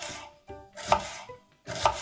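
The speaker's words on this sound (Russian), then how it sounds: "берем половинку луковицы, разрезаем на 4 части" A knife slices a half onion into quarters on a plate, a few crisp chopping strokes with short pauses between them, close and clear.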